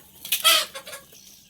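A single chicken gives a short, close clucking call, a quick burst of a few clucks that trails off.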